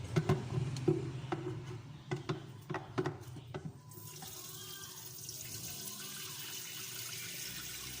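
Water runs from a tap into a kettle, a few hollow knocks and splashes giving way to a steady close rush of filling water.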